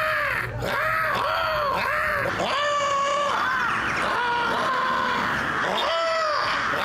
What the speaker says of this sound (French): les corbeaux pour les Israéliens font ra, et ra, ça veut dire mauvais